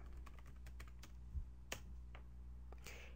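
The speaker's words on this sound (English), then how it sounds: "And now let's type in" Steady typing on a computer keyboard, a quiet run of close, rapid key clicks with a few sharper taps, entering a web address, with no voices.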